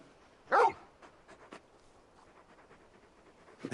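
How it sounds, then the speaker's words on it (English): A big dog in Final Fantasy XVI gives one short, close bark, then a few faint shuffles and a soft sound at the end. "You're just a big puppy, aren't you?"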